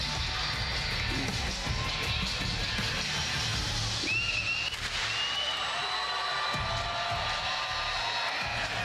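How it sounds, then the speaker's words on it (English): A large crowd at an esports Warzone tournament final watch party roars and cheers continuously, a dense wash of distant voices with occasional higher whoops rising above it. "You hear the crowd. They've been cheering on EU all day"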